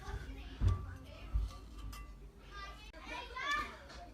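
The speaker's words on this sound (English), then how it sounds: "I've got the kids playing in the garden, so excuse the noise if you can hear them." Children playing in a garden, heard as their high, lively voices and shouts, somewhat distant, along with a few faint clinks.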